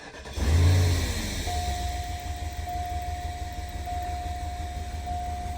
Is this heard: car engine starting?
yes